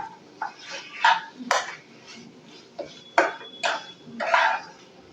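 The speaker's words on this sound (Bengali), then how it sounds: "আবারও আমি কচুর শাকটা ভালো করে নেড়ে নেব" A spatula scrapes and clanks against a wok while taro greens cooked with chickpeas are stirred, giving a series of sharp metallic knocks and scraping strokes at close range with no talking.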